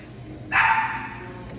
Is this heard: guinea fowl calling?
no